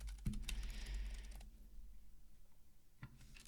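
Rapid keystrokes on a computer keyboard come in a short burst of close clicks, then quiet room tone until a single further tap near the end.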